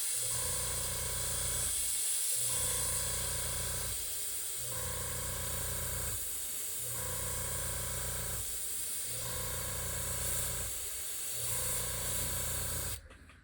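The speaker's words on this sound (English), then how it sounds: "I'm not happy with that spraying like that." An airbrush sprays paint onto a 110 jerkbait fishing lure in a steady, close hiss, broken by short, regular pauses about every two seconds as the trigger releases, ending with a brief clatter.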